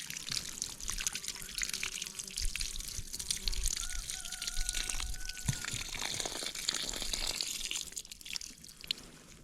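Water from a garden hose running steadily over raspberry and strawberry plants in a vegetable garden, a continuous splashing trickle with faint voices in the background.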